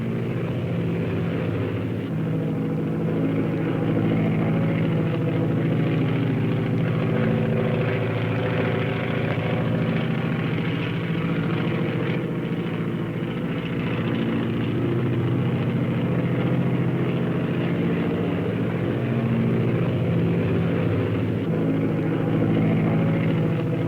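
A Jenny biplane drones steadily in flight at an air show, its engine giving a continuous, mid-pitched rumble that holds at an even level from start to finish, with no voices.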